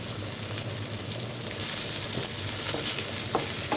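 Onions and curry leaves sauté in a pan for an egg gravy, a steady close sizzle and crackle running throughout with occasional stirring scrapes and a brief rise in intensity partway through.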